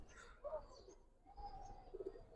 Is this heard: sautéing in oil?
no